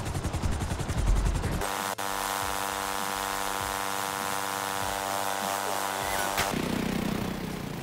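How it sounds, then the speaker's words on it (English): A helicopter flies in GTA 5 Online, a steady loud rotor and engine drone with a rhythmic chop that fills the clip after a rougher start, with a brief click partway through. "Now hop in your helicopter and fly to your arena workshop."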